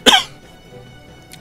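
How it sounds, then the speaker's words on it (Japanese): A single sharp cough bursts out close to the microphone at the start, then fades into quiet room tone. "やっぱ咳出ちゃった。"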